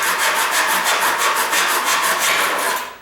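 Hand saw cutting quarter round baseboard trim with light, steady back-and-forth strokes, a loud close rhythmic rasp repeating about five times a second, with no talking.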